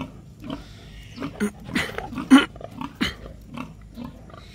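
Free-range pigs on a farm grunting and snuffling in short irregular bursts, close by, with a few louder snorts among scattered rustling.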